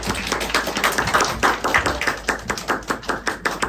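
A church youth leadership gathering breaks into steady clapping to welcome a guest lecturer, a loud, dense round of applause from a modest crowd with rhythmic peaks that carries on throughout.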